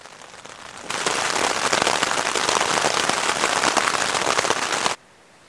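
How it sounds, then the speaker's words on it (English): Steady rain starts abruptly and drums on a tent at a backpacking camp, with a loud, dense hiss lasting about four seconds before it suddenly cuts off. "It rained for about 2 hours."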